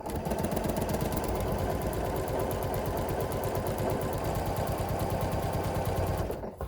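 A sewing machine stitches quilt sashing in one continuous, rapid mechanical chatter, loud and close, running steadily before stopping abruptly at the end.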